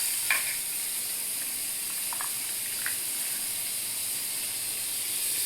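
A piece of butter sizzles loudly in a hot pan on a gas flame, a dense continuous hiss with a couple of faint metallic taps near the start.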